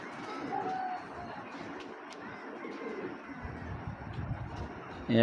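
Giribaz pigeons coo in a loft, a soft, steady low murmur running throughout, with a brief louder knock right at the end.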